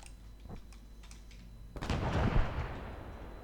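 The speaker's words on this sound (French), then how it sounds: "Ça tire beaucoup sur le bâtiment en face, hein, donc fais gaffe si vous traversez." Gunfire aimed at a building in the video game ArmA 3: a few faint, scattered shots at first, then a sudden heavy crack that rolls into a louder, rumbling burst.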